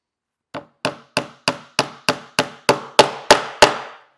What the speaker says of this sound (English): I'll hammer off my second nail